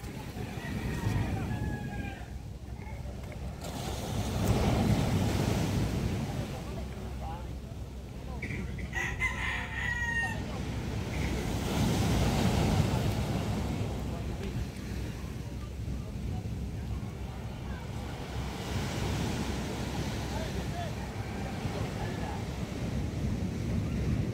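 Steady roar of ocean waves breaking on the shore, swelling and easing in slow surges, with wind buffeting the mic and a rooster crowing faintly in the distance.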